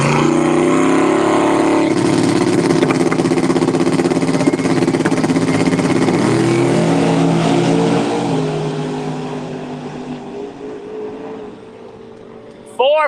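A drag race between a Plymouth Duster and an Orange Crush Cobra Mustang roars loudly for several seconds, then the engines fade away into the distance while an announcer talks over the noise.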